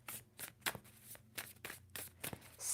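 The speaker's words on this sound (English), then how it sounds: "2 more shuffles for Scorpio" A deck of tarot cards is shuffled close up in quick riffling bursts, soft papery flicks repeating several times at low volume.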